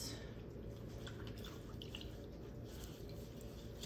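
Splint material is submerged in lukewarm water, with soft, steady dripping and faint water movement in a quiet room.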